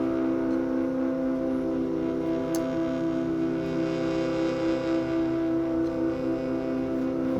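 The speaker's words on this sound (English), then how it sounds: "I'm going to take this distortion out" A Helm software synthesizer holds a sustained tone through a distortion effect, giving a dense, buzzy, gritty drone that stays steady and loud throughout with no talking.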